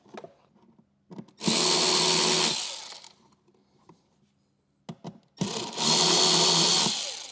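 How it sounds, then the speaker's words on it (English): A power drill on a 2017 Harley-Davidson CVO Street Glide runs in two loud, sustained bursts while starting screws on the saddlebag bracket, with quieter clicks and handling noises between them. "We're just going to start the 2 middle screws here on our bag first."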